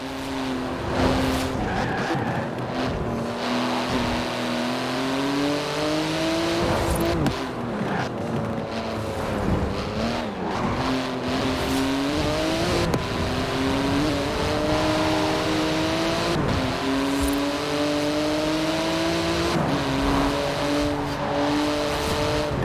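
Porsche GT2 RS in the video game Forza Horizon 4, its engine revving loudly and steadily with rising and falling pitch through gear changes, mixed with repeated tyre squeals and skidding, close and continuous.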